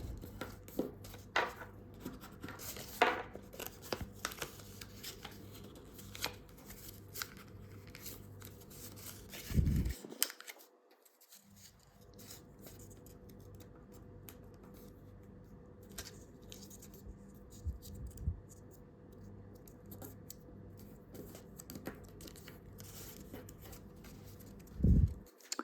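Paper being folded by hand into an origami fighter jet, with soft creasing, scraping and rustling that continue through the clip and a few sharper crinkles, up close and fairly quiet.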